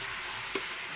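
Shrimp paste (alamang) frying in a pan, a steady broadband sizzle with a brief stir or scrape in the middle, close and alone without talk.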